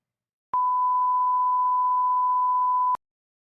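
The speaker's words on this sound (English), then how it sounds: "This is a beep moment." A single pure electronic beep tone, steady and loud, holding for about two and a half seconds with a sharp click at its start and end, alone in silence.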